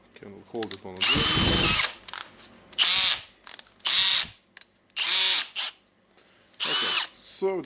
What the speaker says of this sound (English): Can hold it on a drill.